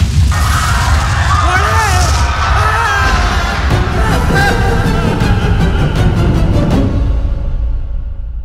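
Temple festival fireworks bursting in a dense, continuous barrage of loud booms and bangs with crackling overhead, a crowd faintly audible beneath, the volley thinning out near the end.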